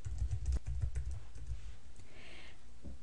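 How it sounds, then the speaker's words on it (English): Fingers type on a computer keyboard into a word processing document, a quick close burst of clicking keystrokes that thins out into a few scattered taps and quiet pauses. "When it shows up, you can start typing."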